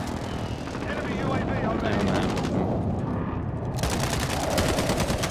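Rapid automatic gunfire and shots in Call of Duty Warzone gameplay ring out in dense bursts over a busy game soundscape, continuous and fairly loud throughout.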